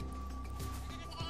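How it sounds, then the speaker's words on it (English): A giant sheep in the Final Fantasy XIII-2 video game gives a bleating cry over steady in-game background sound and music, the call rising briefly and plainly audible in a short burst. "All I know is I gotta get this giant sheep."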